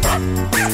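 A dog gives a short bark and yip over the steady tones of a children's song, close and loud within less than a second.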